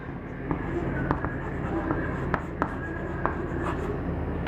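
Chalk or marker scratching across a board as chemistry nomenclature is written out, a steady close scraping texture with a few sharp taps, and no talk over it.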